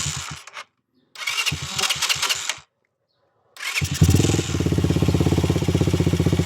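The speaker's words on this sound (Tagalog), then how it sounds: "pandar natin yung motor" A motorcycle with a faulty charging system is started. Two bursts of starter cranking are followed by a third that catches into a loud, steady, close idle with a rapid pulsing beat.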